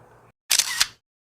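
A camera shutter snaps twice in quick succession, close and crisp, after a brief low hum that cuts to silence.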